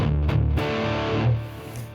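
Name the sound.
electric guitar with nasty distortion, drop D tuning, Friedman amp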